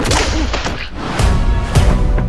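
Cartoon slap sound effect: a few sharp whip-like smacks and swishes, loud and close, with no talking over them.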